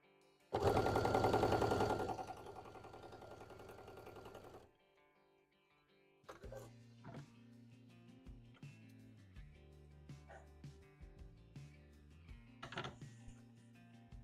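Sewing machine joining costume pieces, a loud dense burst of stitching for a few seconds, then quieter clicks and mechanical taps after a pause.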